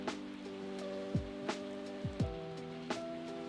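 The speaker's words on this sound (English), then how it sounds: "Well, it's raining." Steady soft rain wash in the Stardew Valley video game, a continuous hiss under layered synth music and occasional chime-like effects, with no talking.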